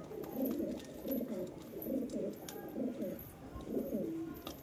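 A pigeon injured by a cat bite coos in a steady series of soft, low, rolling calls, repeating about once a second at close range with no other sound.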